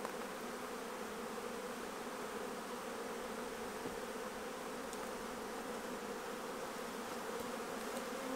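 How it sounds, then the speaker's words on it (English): Forager bees swarm out of a small hive during an inspection, a dense steady buzzing hum that fills the air continuously, with no voices. "we are going to get rid of all the forager bees"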